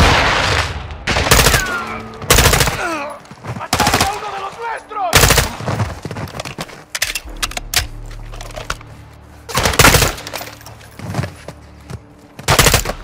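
Loud Call of Duty Modern Warfare 2 gunfire rips out in short, close, spaced bursts, with brief shouted voices between the shots.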